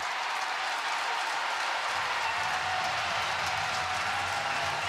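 Baseball stadium crowd in a Nationals at Giants game after a two-run double, a steady, loud wash of cheering and applause holding for the whole stretch without easing.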